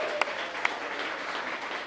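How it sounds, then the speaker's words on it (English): Wedding guests applauding the two moms, a continuous spread of clapping with two louder claps near the start. "round of applause for the two moms"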